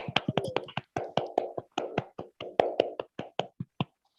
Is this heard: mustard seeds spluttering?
no